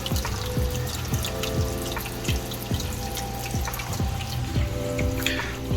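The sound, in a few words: aquarium filter and surface skimmer water flow, Seachem Tidal 55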